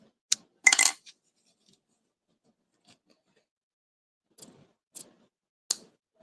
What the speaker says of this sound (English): Just gonna trim the tails a little bit.